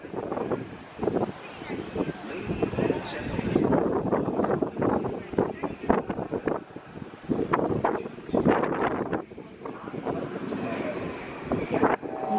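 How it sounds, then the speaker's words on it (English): Strong wind gusts buffet the microphone at an outdoor viewpoint in Tokyo DisneySea, a loud, continuous roar with uneven bursts throughout while a person talks over it. "Sorry, it's so windy."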